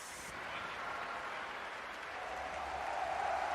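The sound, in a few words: fans cheering at a Dota 2 esports tournament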